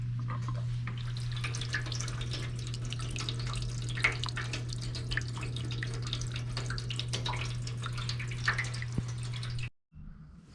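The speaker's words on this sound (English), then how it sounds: "We're going to plug this in, and the water should be flowing out from here onto the blade." Water runs from the pump onto the blade of a rented wet tile saw, giving a steady trickle with small drips over a constant low electrical hum, then stopping abruptly near the end.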